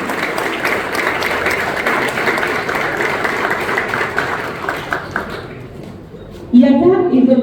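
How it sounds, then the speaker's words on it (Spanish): A crowd applauds steadily, a dense wash of clapping that fades toward the end before a brief tonal sound cuts in. "que nosotros hacemos es a don David Galeano, con un fuerte, fuerte, fuerte aplauso."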